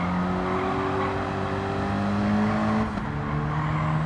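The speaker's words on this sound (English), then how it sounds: "Get quite a bit of wheel spin in second gear in this car." Car in Gran Turismo 7 on a licence test, engine droning steadily with wheel spin in second gear, a sustained revving tone with faint tyre squeal, close and continuous with no talking.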